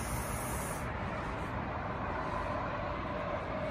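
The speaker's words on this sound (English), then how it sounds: "Excuse the noise from the traffic." Steady, loud road traffic noise outside a home patio: a continuous broadband rumble and hiss of passing cars and trucks that holds constant throughout, with no voices.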